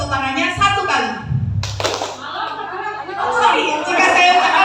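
A classroom group claps hands together on a teacher's cue. It comes as one brief, sharp burst among chattering children's voices and an adult talking.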